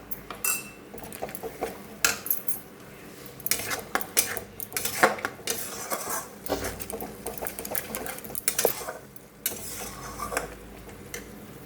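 A paste of ground cumin, ginger, salt and turmeric is sautéed and stirred in a pan, with a utensil repeatedly clattering and scraping against the metal in quick, uneven strokes over a soft sizzle.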